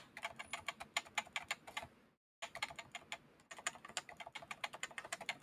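Rapid keystrokes on an HHKB mechanical keyboard with a slightly rattly regular slider, clicking in quick bursts with a brief pause midway, close and alone without speech.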